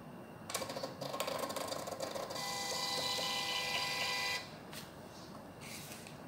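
A MINIPOS MP-RP58AB thermal Bluetooth receipt printer prints a logo on a receipt, giving off a steady close mechanical whir and buzz for several seconds before it stops, with faint room noise afterward.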